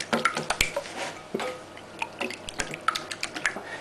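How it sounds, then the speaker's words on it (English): Eggs and milk are stirred in a bowl for a bobotie egg sauce, producing close, wet squishing and dripping clicks in a quick uneven rhythm, with no talking. "Now give that a quick stir, break those eggs up a little bit."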